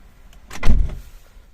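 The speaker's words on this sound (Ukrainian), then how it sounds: "Відкриваємо двері." A Renault Scenic 3 car door opens with a single short mechanical clunk and latch rattle, close and fairly loud, set in a quiet background.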